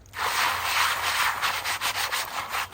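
Coarse gravel scrubbed around inside a gold pan to strip off oil, a steady, loud, close gritty rasp with a slight rhythmic surge as the pan is worked.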